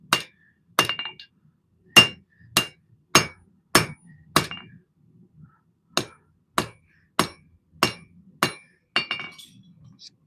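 Heavy hammer blows ring out on a knife blade being forged on an anvil, about a dozen sharp metallic strikes in a steady rhythm with brief pauses between, loud and close with no talking.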